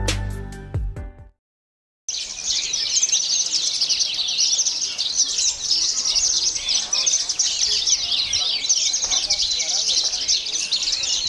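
Songbirds at an Indonesian bird-singing contest chirp and trill loudly and without pause, a dense continuous chorus of high, rapid calls after a brief silence at the start.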